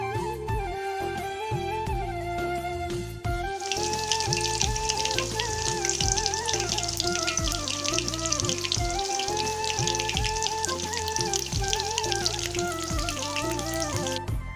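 Beguni, battered eggplant fritters, sizzle in hot oil, a dense steady bubbling hiss over a loud tonal hum that runs the whole time.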